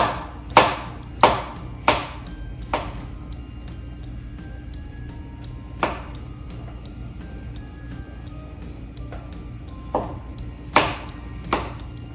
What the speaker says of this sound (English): All I'm doing is just kind of trying to just evenly slice my mushrooms.